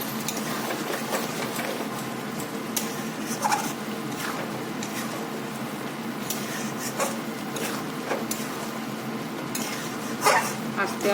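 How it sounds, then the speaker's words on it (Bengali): Poppy seed paste being stirred and dried in raw mustard oil in a pan, a continuous scraping and rubbing of spoon against metal with faint sizzling underneath, steady and close, with occasional sharper clinks. "দিয়ে নাড়তে নাড়তে এটাকে ড্রাই করতে হবে পোস্তটাকে।"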